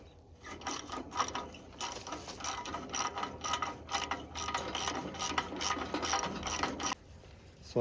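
Ratchet wrench clicking as it tightens a bolt on a shank of a John Deere 722 field finisher, rapid close-up bursts of metallic pawl clicks in repeated strokes, pausing briefly near the end.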